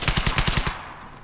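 A Tommy gun fires in the video game Hell's Highway: one rapid burst of about eight close, evenly spaced shots, then a short fading tail.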